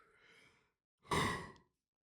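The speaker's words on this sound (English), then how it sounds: "Massive apologies for the yawn." A single long, breathy yawn that swells and then fades out, quiet and close, following a faint exhale.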